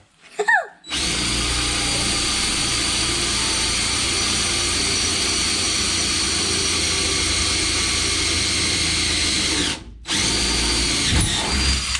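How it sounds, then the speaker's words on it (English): A loud power drill with a dulling bit whines continuously at close range, cutting out briefly near the end before revving again. "I think my drill's getting a little dull."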